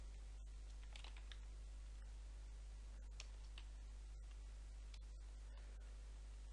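Code is typed on a computer keyboard during a C programming lesson on arrays: faint, irregular key clicks in quick bursts over a steady background hum, no voices.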